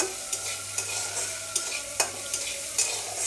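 Food fries in a pan with salt and no turmeric, a constant close sizzle broken by several clinks and scrapes of a spoon stirring at irregular intervals.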